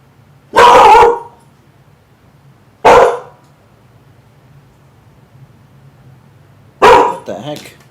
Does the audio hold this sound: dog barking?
yes